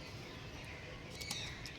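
Faint, brief chirps and calls from a loft of Armanda bloodline pigeons, with a couple of short bird notes rising over steady low background noise.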